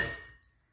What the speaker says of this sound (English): we'll use our little hammer here to tap on the valve to dislodge the keepers from the retainer